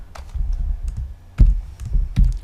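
Several heavy, distinct keystrokes thump on a computer keyboard while a Python print statement is typed, spaced irregularly and close, with no voice.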